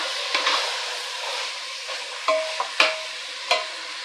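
Onion and garam masala sautéing in a pan for chicken leg biryani give a steady soft sizzle, and a few sharp spatula scrapes and taps ring out near the end.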